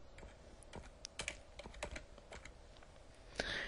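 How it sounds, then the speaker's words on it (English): Keys on a computer keyboard tap in an irregular string of light clicks, near but faint, with brief gaps between bursts and no voices. "I'm just going to type"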